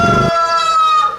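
A rooster at Campuestohan crows loudly and close, one long sustained call that begins with a brief harsh burst and fades at the end.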